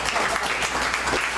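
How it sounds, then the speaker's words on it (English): Steady applause from an audience at a startup community talk fills the whole moment, dense and continuous clapping with no break. "can you all give her a round of applause"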